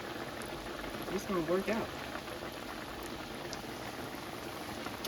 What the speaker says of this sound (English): All right, we're gonna fry those up